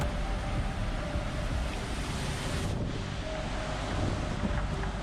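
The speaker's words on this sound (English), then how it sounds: "The gusts of wind howl like nature's anguished cries, creating an eerie and haunting sound." Strong hurricane winds from Hurricane Francine roar steadily through the whole stretch, loud and close, with heavy rushing noise and a brief dip before the gusts surge back.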